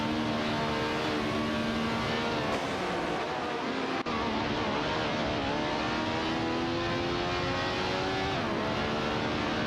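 Racing-game cars roar continuously, several engines layered with rising and falling revs as gears shift, loud and close with no talk over them.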